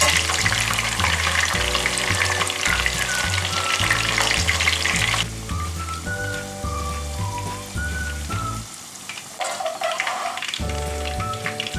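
Chicken 65 pieces deep-frying in hot oil, a steady dense sizzle running throughout under loud tonal background music, with no talk.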